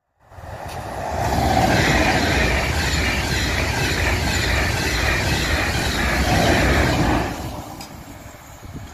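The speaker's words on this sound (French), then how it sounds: "J'ai jamais imaginé qu'un TGV espagnol passe par ici." A Spanish TGV high-speed train rushes past close by, a loud roaring wash of wheel and rail noise that swells quickly, holds for about six seconds, then drops away.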